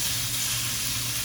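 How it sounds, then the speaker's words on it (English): Pork frying in a hot pan, a steady close sizzle with constant hissing crackle throughout and no voices. "So you're gonna start by heating up your pan and frying your pork."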